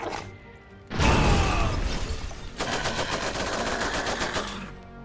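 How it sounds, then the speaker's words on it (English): Heavy machine gun fire in the Iron Harvest strategy game, loud rapid bursts of battlefield shooting with crashing impacts, nearly continuous after a brief lead-in. "Oh, look, they have a heavy machine gun."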